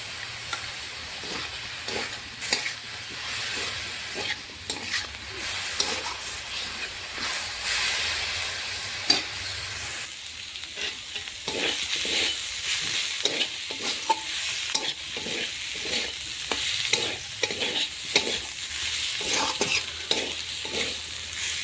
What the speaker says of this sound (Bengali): মেথি শাক ভাজাটা হয়ে গেছে